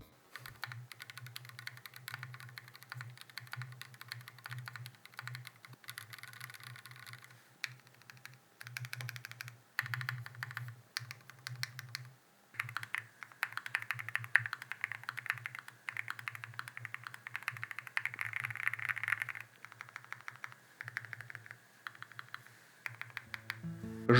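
Steady typing on a Ginkgo65 Pro mechanical keyboard, a dense run of close, crisp keystrokes clattering continuously with brief pauses, with no one talking.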